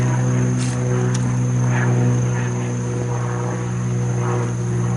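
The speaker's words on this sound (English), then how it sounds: "So you may hear a lot of airplanes and helicopters and things like that" Steady droning hum of a propeller airplane flying near the airport in Jackson, Tennessee, constant and fairly loud throughout, heard outdoors in a nature park without speech.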